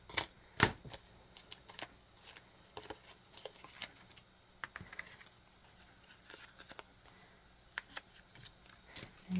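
Paper is trimmed by hand for a handmade card, giving quiet, irregular clicks and snips that repeat close by over a near-silent background.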